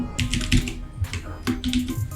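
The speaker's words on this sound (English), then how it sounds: "here we are going to type Google Docs" Computer keyboard keys typed in quick irregular bursts with short pauses, close and fairly loud, no talking.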